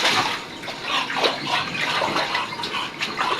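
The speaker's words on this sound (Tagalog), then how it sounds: "Spray lang siya kasi takot nga sa tubig." Steady hissing water spray, close and continuous, with a broadband splashing texture and small surges throughout.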